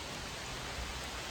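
Rain falling outdoors in Germany as a steady, dense hiss of drops, continuous and fairly close, with no voices over it.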